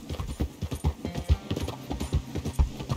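Horse hooves clip-clop in a steady, rhythmic gait in the video game Red Dead Redemption 2, with close, moderately loud, evenly spaced hoofbeats.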